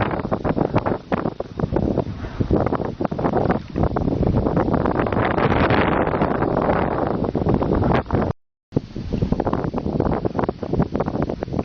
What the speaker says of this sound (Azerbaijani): hələ gedirik, külək də yavaş-yavaş bərkiyir